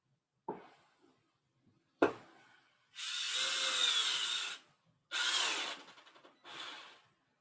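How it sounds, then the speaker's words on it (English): Close up, a power drill bores holes around the perimeter of a wooden workpiece in a home workshop. Two sharp knocks come first, then three separate whining bursts of drilling, each lasting one to two seconds, with quiet gaps between them. "And we'll drill some holes around the perimeter out a ways."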